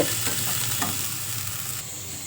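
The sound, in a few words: ingredients frying in oil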